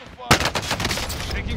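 Gunfire in the Call of Duty: Modern Warfare video game: a sharp loud shot opens a rapid string of close, rattling bursts that carry on to the end.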